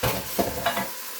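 Leftover hamburger hash with potatoes going into a pan of cooking chili, a short close burst of sizzling with two soft stirring scrapes before it goes quiet.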